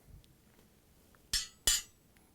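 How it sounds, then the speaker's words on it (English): Metal burner grates lifted off a GE gas stove clank twice in quick succession, sharp and close, in an otherwise quiet room. "I'm going to start with taking off the burner grates"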